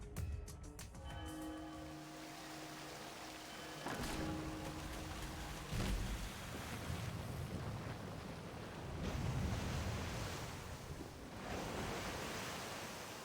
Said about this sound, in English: Of course it's behind the waterfall.